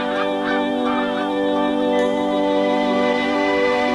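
A flock of geese and other birds honk and call together in the Arctic summer, a dense, continuous chorus of overlapping nasal cries that holds steady and loud throughout, with no voices.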